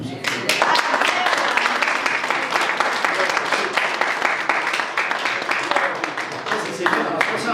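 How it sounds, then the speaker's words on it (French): A church congregation in Berthierville applauds during a sermon, sustained loud clapping filling several seconds with voices mixed in. "on peut-tu donner une main d'applaudissement au Seigneur?"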